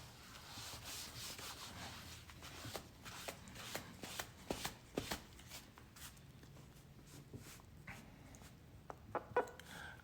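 Whiteboard being wiped with an eraser: a continuous close rubbing and scrubbing sound with repeated swipes and soft scuffs, steady over several seconds with no talking.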